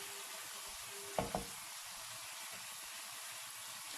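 Chicken frying in a pan, a quiet steady sizzle with two quick knocks of a utensil near the middle, heard alone.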